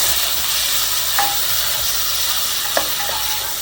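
Chopped tomatoes frying in a mutton kulambu gravy, a loud, steady sizzle and hiss with two brief metallic spoon clinks, no talking.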